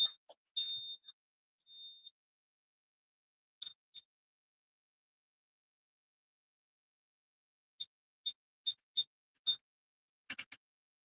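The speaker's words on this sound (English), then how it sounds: "I gotta turn this alarm off" An electronic alarm sounds in short, high, thin beeps, a few scattered early, then a quiet gap, then a regular run of single beeps ending in a quick burst, all faint against silence.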